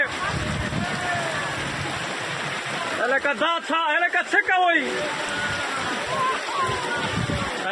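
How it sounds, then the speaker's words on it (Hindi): Heavy rain pours onto a flooded road in a dense, continuous hiss of falling and rushing water, briefly interrupted midway by someone speaking up close. "सड़क पर बारिश इतनी तेज हो रही है कि साफ दिखना मुश्किल है।"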